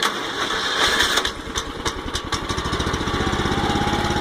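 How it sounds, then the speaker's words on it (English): A go-kart engine on half choke is pulled to life on a cold day, catching after a few coughs and then running roughly with an uneven, pulsing chug, loud and close with no talking. "Let's put the choke on, and here we go."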